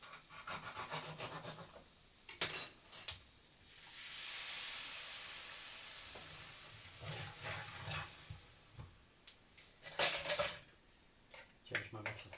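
Metal spoon clinks and clatters against a cooking pot as coconut milk goes in for a Thai red curry, a few sharp bright knocks followed by a soft steady hiss and more scraping clinks, close and fairly loud.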